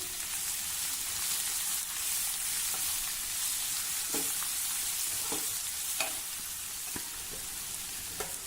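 Chopped tinda sizzles steadily in hot oil with turmeric and asafoetida over a low flame, a dense, even frying hiss with occasional soft stirring knocks, close and continuous.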